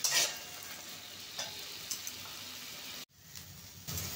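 Steady sizzling of mixed vegetables with potatoes frying in a pan over a medium gas flame, with occasional stirring scrapes and a brief pause near the end before the sizzle resumes.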